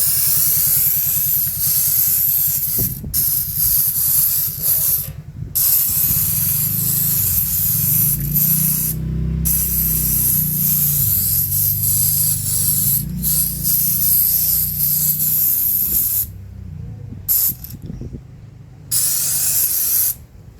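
Chemical paint remover is sprayed onto a painted surface in long, close hissing bursts with brief pauses between sprays, over a low background rumble.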